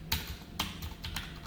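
A few separate keystrokes on a computer keyboard while JavaScript code is typed, crisp close taps spaced unevenly with quiet gaps between them.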